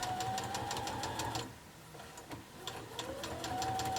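Domestic sewing machine stitching a four-patch quilt block, running in steady rapid bursts, pausing briefly midway before whirring again, close and clear with no talking.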